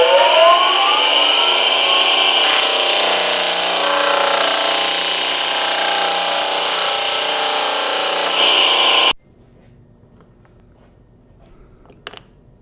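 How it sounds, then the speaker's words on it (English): A disc sander shaping wood for a crib runs with a loud, steady high-pitched whine and grinding rasp for about nine seconds, then cuts off abruptly, leaving near silence with a faint click near the end. "So that is going to be done with that machine way over there, called the disc sander."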